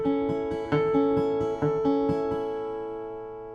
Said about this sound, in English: I'm actually sounding the harmonic below the chord, so you can hear it here on the 4th string